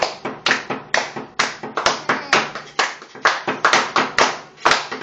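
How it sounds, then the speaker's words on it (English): A family claps along with a baby at home, a run of sharp, close hand claps in an uneven, playful rhythm lasting the whole stretch, loud and with no talking over them. "Clap, clap, clap."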